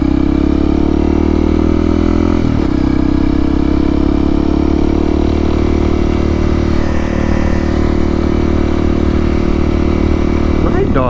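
A Honda CRF300L motorcycle with a loud aftermarket exhaust runs at a steady idle close by, its deep, throbbing drone continuous and dominant the whole time.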